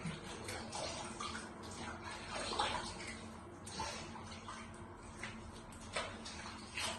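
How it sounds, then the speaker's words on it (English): Faint, steady splashing of warm water at a sink while a man rinses his face during a cleansing routine, with soft running-water hiss throughout. "Rinse your face."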